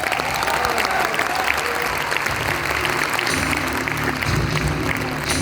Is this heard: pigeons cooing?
no